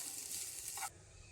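Four eggs being scrambled in a hot pan: a steady close sizzle with stirring that cuts off abruptly partway through, leaving faint background hiss.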